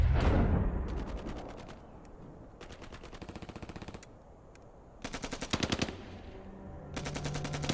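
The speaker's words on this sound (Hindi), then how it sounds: "ये तो फायरिंग बहुत नजदीक से हो रही है।" Bursts of automatic gunfire in a Hindi war film set around a bunker, close and loud, coming in rapid volleys separated by short lulls with a low rumble underneath.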